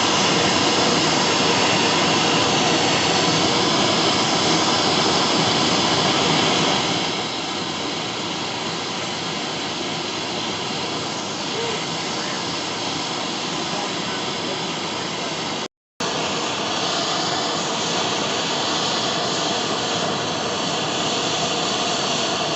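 A Stihl BR 350 leaf blower with a clogged muffler runs steadily at full throttle indoors in a shop, its loud constant roar briefly cutting out for a split second before resuming.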